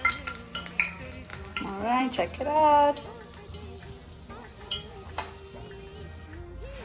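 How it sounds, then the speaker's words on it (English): Curry leaves hit hot oil in a pot and sizzle and crackle for several seconds, close and fairly loud, while someone speaks briefly over the frying. "what I'm about to do is throw some curry peel leaf into the pot"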